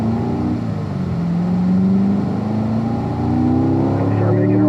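A race car on a track accelerates up through the gears, its engine note climbing steadily, dipping at each shift and climbing again, loud and close throughout.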